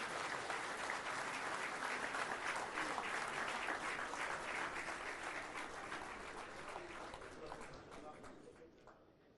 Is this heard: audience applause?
yes